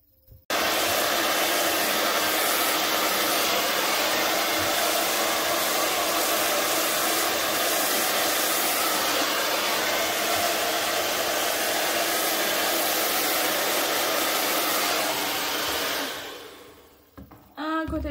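A hair dryer blows continuously at close range while hair is brushed through, a loud steady whoosh lasting over fifteen seconds before cutting off near the end.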